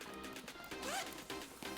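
Zipper on a carry-on bag's top pocket, a quick rising zip pulled near the microphone over a steady background hum, with a couple of soft handling knocks around it.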